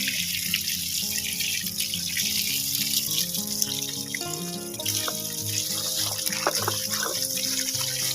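Water gushing for flood irrigation on a farm, a steady, strong rush of flowing water that runs continuously, fairly near, with no talk over it.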